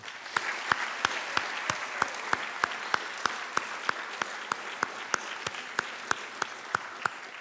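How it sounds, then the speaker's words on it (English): Applause at a high school academic awards ceremony honoring senior students; a soft background of clapping under a prominent, evenly spaced series of sharp, close single claps beating a steady rhythm throughout. "Please join me in a round of applause for this wonderful honor."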